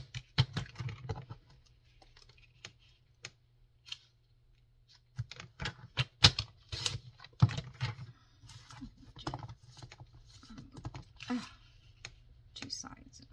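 Paper ephemera being trimmed with scissors for a junk journal: scattered short, crisp snips and small paper rustles, close and fairly quiet, coming in irregular bursts with pauses, over a low steady hum.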